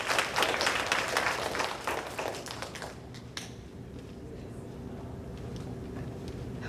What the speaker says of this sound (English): Just go ahead and give yourself a big round of applause.